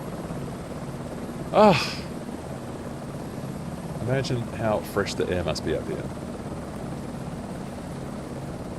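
An H160 helicopter in Microsoft Flight Simulator 2024 gives a steady low engine and rotor drone in the background, under a man's brief exclamation and remark.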